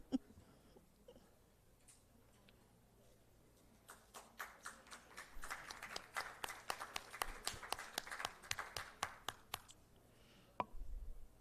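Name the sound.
audience applause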